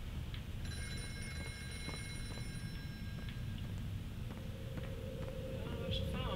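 Telephone ringing in the horror video game White Noise 2, a steady electronic ring held for a few seconds over a dim, noisy ambience with footsteps.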